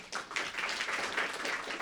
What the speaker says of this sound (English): I love how you're such a supportive audience when you clap after everything